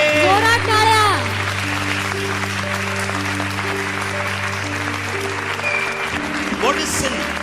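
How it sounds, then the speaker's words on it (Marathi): A church congregation claps hard during a worship service, with broad, sustained applause running under steady held keyboard chords and a voice at the start. "Give a mighty clap for my Jesus."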